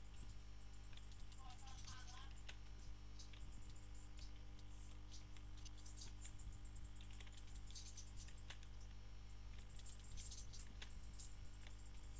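Computer keyboard typing during a Minecraft PvP session with friends, faint rapid clicking keystrokes in irregular bursts over a steady low hum and background noise.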